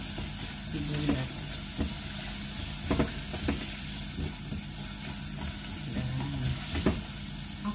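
Onions sizzle steadily in a frying pan while the cook prepares pork adobo, with several sharp scraping stirs of a utensil cutting through the constant hiss; no one speaks.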